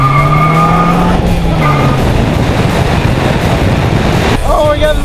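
A three-wheeled roadster's loud engine roars up close with tires squealing and skidding, the pitch sliding as it swerves; voices are mixed in.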